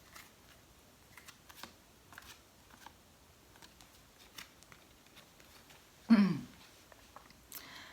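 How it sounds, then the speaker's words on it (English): Oracle cards being shuffled during a tarot reading: soft, faint, scattered card flicks and ticks in a quiet room, with a brief louder rustle near the end. "And then we're going to go draw a few oracle cards."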